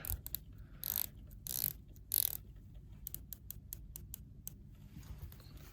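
The rotating bezel of a Breitling Chronomat watch being turned, giving faint, close, rapid ratchet clicks in short irregular runs, alone with no voice.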